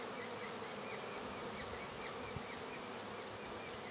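Honey bees buzz steadily around a nucleus hive during an inspection, a dense, continuous hum filling the whole stretch with no talking.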